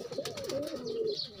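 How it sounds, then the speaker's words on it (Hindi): Banded pigeons coo close by in a soft, rolling, throaty call that wavers in pitch for a moment, with a faint higher chirp near the end and no speech. "ये देखो कबूतर"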